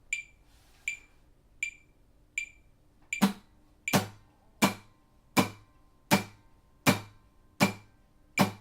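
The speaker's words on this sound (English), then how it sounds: "So put on a metronome." A metronome ticks steadily at 80 beats per minute with high, clicky beeps, then muted percussive guitar downstrokes join on each beat, a regular pulse of dry, punchy strums heard close with no talk.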